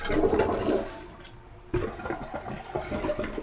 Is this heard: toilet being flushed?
yes